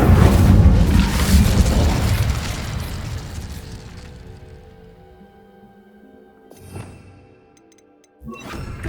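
An Incendio fire spell bursting in Hogwarts Legacy, a loud booming blast with a rumbling tail that fades over several seconds, then a couple of softer magical swells and pops.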